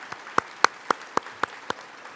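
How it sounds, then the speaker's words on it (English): A small audience at a middle school promotion ceremony clapping in slow unison, about seven evenly spaced sharp claps at moderate volume in a quiet room. "And we'll clap for football."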